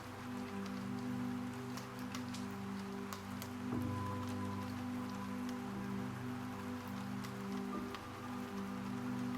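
Steady rain falls outside, a soft even patter with scattered drop ticks over a low, constant hum, continuing without change.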